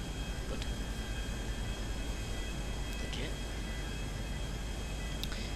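A steady, droning airplane engine hums in GTA V, a constant broadband roar with no voices in the clip, heard from inside or near the aircraft before a parachute jump.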